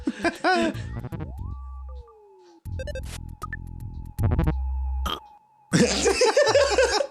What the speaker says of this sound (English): he did a teeny tiny little burp